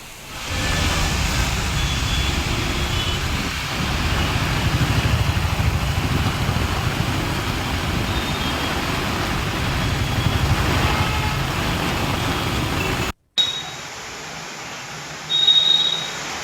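Rush-hour road traffic stuck on the Lingampalli to Gachibowli route in Hyderabad during heavy rain: a steady, dense wash of engines and tyres that holds evenly, then briefly drops out and returns quieter near the end.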